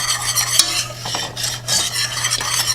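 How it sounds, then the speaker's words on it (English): A whisk stirs xanthan gum into blueberries in a dish, making quick wet swishing and scraping strokes in a close, continuous rhythm, with no one speaking. "And then we can whisk that in."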